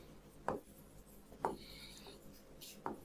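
Chalk or marker strokes on a board during a lesson, three short scratchy bursts spaced about a second apart against a quiet room.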